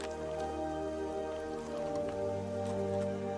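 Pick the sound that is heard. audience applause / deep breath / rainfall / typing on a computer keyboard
rainfall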